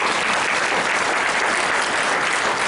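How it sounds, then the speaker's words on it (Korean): A church congregation bursts into loud, dense applause during a worship service, a continuous wash of clapping from many hands filling the room without pause. "우리 하나님께 영광의 박수로"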